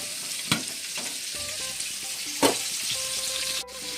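Vegetables for a masoor dal fry in a pan in a home kitchen, giving a constant close sizzle with a couple of sharp stirring clacks and light scraping.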